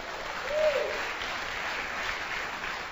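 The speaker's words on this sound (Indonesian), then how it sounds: "Aplaus buat beliau." An audience at a presentation seminar claps for a presenter, a dense, steady wash of applause that holds evenly throughout without speech.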